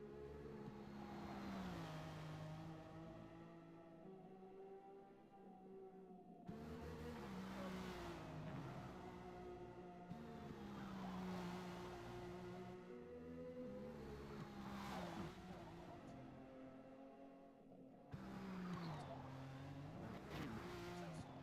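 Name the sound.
race car driving in the video game Forza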